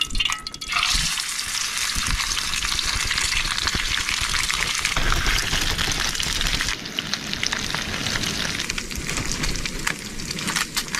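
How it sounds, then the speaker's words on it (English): Fish seasoned with rosemary, basil and salt sizzles in a pan over a campfire outdoors, a loud, steady crackling hiss that runs throughout without pause, close up, with no talking. "I'm going to go ahead and cook up that fish"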